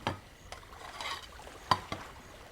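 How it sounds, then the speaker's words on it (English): Dishes are washed with scattered clinks of pots and cutlery, a few sharp metallic taps standing out against soft water and scraping sounds, close and gentle, with no voices. "The cleaning of dishes."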